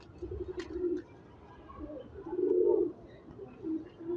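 A female pigeon of a star pigeon breed coos softly in several low, repeated murmurs spaced through a few seconds, close by against faint background noise.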